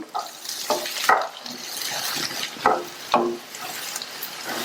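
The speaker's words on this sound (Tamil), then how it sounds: "எண்ணெய் சூடானதும் கட் பண்ணி வச்ச முள்ளங்கியை சேர்த்துட்டு நிதானமான தீயில வச்சு இந்த முள்ளங்கியை வதக்கணும்" Cut radish sautéing in hot oil over a low flame, heard up close as a soft, continuous sizzle broken by several scraping stirs of a utensil in the pan.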